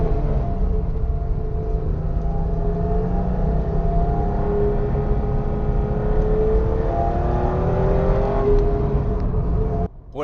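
A 1980s BMW Alpina E21 C1 drives along with a loud, constant engine drone and road roar heard from inside the car, the pitch rising and falling slightly as it accelerates, with no talking.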